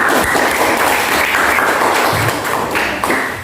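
Schoolchildren in a teaching-practice classroom at Universitas Mataram clap loudly and close by, a brief energetic burst of applause lasting a few seconds before tapering slightly.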